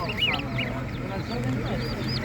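Ducks quack repeatedly in short nasal bursts at a Saturday village animal market, several birds calling together at close range over a low background hum.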